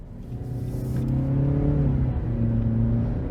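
A 2022 Nissan Rogue Sport's naturally aspirated 2-liter four-cylinder pulls hard in sport mode. The engine drone climbs steadily in pitch, heard from inside the cabin, loud and continuous with no talking.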